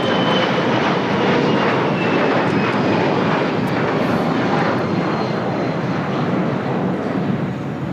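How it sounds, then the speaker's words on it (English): A Cathay Pacific Cargo jet comes in to land at LAX, its engines a loud, broad, steady roar that fills the scene without any talking. "It's Cathay Pacific Cargo 2080 coming in from Dallas, Fort Worth."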